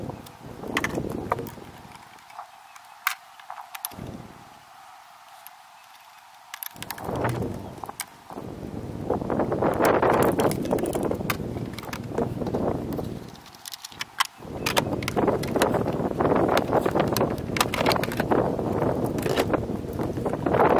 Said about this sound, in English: It hasn't been windy all day, and it's starting to get windy